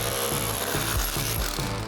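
Demolition hammer breaking up material during a home renovation, heard as loud, continuous rough grinding and rattling with repeated low thumping pulses, close by and without talk.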